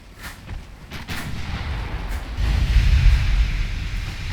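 Naval guns firing lyddite shells in the warship game Ultimate Admiral Dreadnoughts, several muffled booms at intervals swelling into a deep, continuous rumble of distant gunfire, with no talk.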